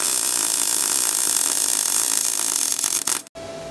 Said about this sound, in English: You hear the noise it's making the noise the MIG welder makes when it's happy.